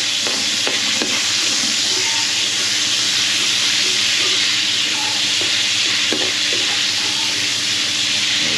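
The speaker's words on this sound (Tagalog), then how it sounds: "pagprito ng carrot saka patata" Carrots and potatoes fry in hot oil with a steady, loud sizzle and hiss that runs unbroken, broken now and then by short stirring scrapes and knocks.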